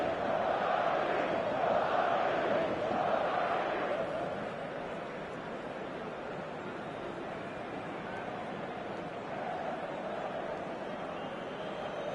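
A match day stadium crowd roars as a broad, loud wash of cheering and chanting, fuller at first and then easing to a steady, slightly lower murmur that carries on continuously.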